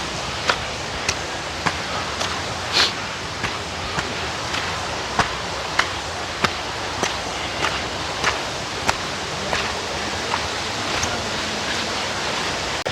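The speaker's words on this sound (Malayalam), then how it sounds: "എൻ്റെ പുറകിൽ ആനച്ചാടിക്കുത്ത് വെള്ളച്ചാട്ടം" Anachadikuthu waterfall pours steadily with a broad, constant rush of water close by, broken by faint regular ticks and steps.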